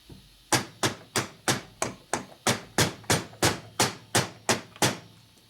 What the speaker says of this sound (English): So you lightly tap it.